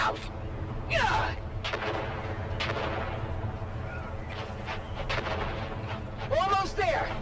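Grenade explosions in the video game Dune: Awakening, a few heavy booming bursts mixed with gunfire-like cracks over a constant rumbling battle din, with excited voices shouting throughout.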